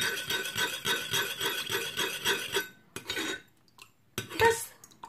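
A metal spoon scrapes and clinks rhythmically against a bowl while stirring homemade hand sanitizer gel, brisk repeated strokes that pause, resume briefly, then end with a few scattered clinks.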